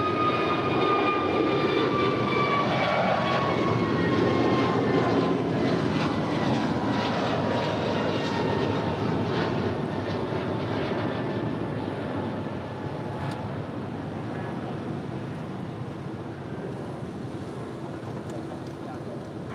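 A JetBlue airliner takes off from runway 25 right at LAX, a loud sustained jet engine roar with whining tones that slowly fades as it departs, heard from a distance with some wind.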